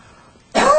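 A single short cough, muffled into the upper arm, bursts out loud and close after a moment of near silence.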